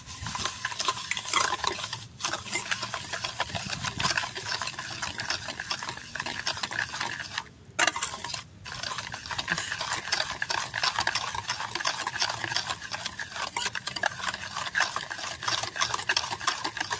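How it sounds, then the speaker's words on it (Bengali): Egg and sugar beaten together by hand in a bowl for semolina potol biscuits, a steady, fast scraping and tapping that runs nearly the whole time at close range, with one short break partway through. "বেশ সুন্দর করে গুইটা চিনির নগে ডিমাটা মিশিয়ে নেব।"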